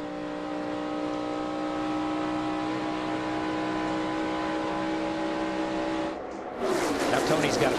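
NASCAR stock cars in the 2009 Coke Zero 400 at Daytona drone steadily in a pack down the backstretch, a sustained engine hum that swells louder near the end as they close in, under a broadcaster's commentary.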